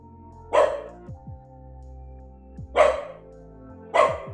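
A dog barks three times, each bark short and loud and spaced a second or two apart, over a low steady background hum with no talking.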